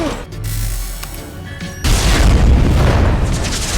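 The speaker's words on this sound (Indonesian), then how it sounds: "Ledakan hebat pun terjadi dan Victory pun telah binasa." A film scene explosion erupts into a loud, deep, sustained boom and crash that swells suddenly after a rumbling lead-in and keeps roaring to the end.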